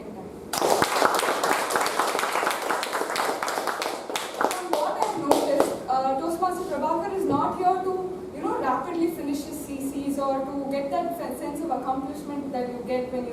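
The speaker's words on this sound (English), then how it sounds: "I want all of us to applaud Toastmaster Prabhakar for coming here" An audience at a Toastmasters meeting breaks into a short burst of clapping that fades after a few seconds, then a person starts speaking.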